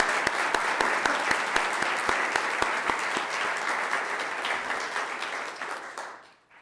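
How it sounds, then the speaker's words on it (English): Crowd applause at an evening music event, a steady wash of many hands with sharper single claps standing out, holding strong for about six seconds before quickly dying away. "So I really do think we need to give Chelsea a round of applause tonight."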